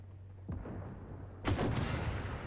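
A tank cannon shot from an AMX 10 RCR in Armored Warfare: one heavy, sharp blast that booms out and rings off over the following second, with a smaller thump just before it.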